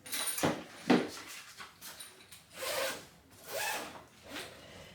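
A dual zipper on a nylon carry bag for a CPR training kit rasps open in several quick strokes, with short pauses between pulls, close and fairly loud, with no talking.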